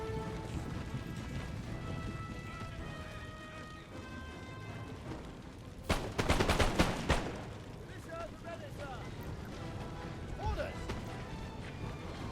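Musket gunfire in a Napoleon: Total War battle, heard as a sudden crackling volley of overlapping shots amid a low battle din, with someone talking over the scene.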